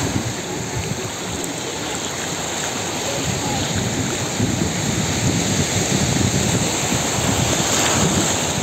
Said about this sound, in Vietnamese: Hôm nay biển ở đây nhiều sóng quá, nhưng mà nước thì ấm áp, dễ chịu lắm.